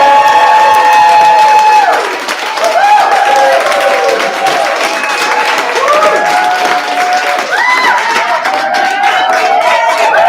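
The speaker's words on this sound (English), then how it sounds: "we cheer at Cedar Rapids Fashion Month shows. We make noise, we clap and stomp and snap" Audience at a Cedar Rapids Fashion Month solo fashion show cheering, whooping and clapping loudly throughout, with sustained applause and high excited voices rising and falling close by.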